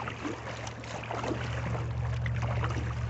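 A small boat motor runs steadily on Lake Lavon during a jug fishing trip, a continuous low hum with water wash, fairly close and alone without talk.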